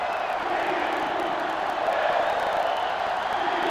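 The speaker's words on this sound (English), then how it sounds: "They're really struggling now as this crowd is going absolutely insane" A stadium crowd roars steadily and loudly throughout at a college football game in NCAA Football 08, a dense continuous cheer with no pauses or distinct voices standing out.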